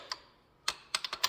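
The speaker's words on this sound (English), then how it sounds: "So we'll torque these fellas down to 30" Torque wrench clicking as bolts on a Ski-Doo MXZ 700 snowmobile are tightened to 30 foot-pounds: one faint tick, a pause, then four sharp close clicks in quick succession.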